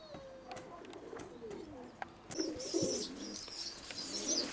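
Pigeons coo inside an upper loft, soft low calls scattered among faint chirps and rustles, growing busier and louder toward the end.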